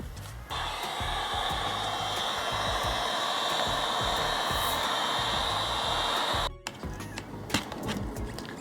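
A hot-air heat gun blows steadily on the failed window trim adhesive of a third-generation Cadillac CTS, a loud continuous whoosh that cuts out abruptly near the end, followed by faint handling noises.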